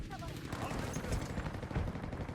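Rapid gunfire in Battlefield 5, bursts of automatic shots crackling densely and continuously at moderate loudness, with a voice speaking over the battle.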